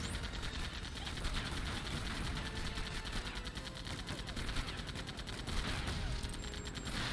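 Dense, continuous video-game gunfire from Lego Batman, rapid bursts of shots running steadily at close range through the whole stretch with a faint mechanical hum underneath.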